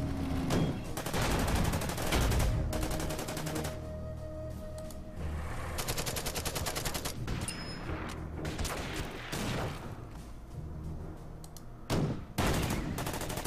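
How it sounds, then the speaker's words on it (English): Rapid gunfire aimed at an enemy bomber in the strategy game Order of Battle, with bursts of fusillade-like shots and booms recurring throughout over a steady background of game sound. "I'm just shooting at the enemy bomber."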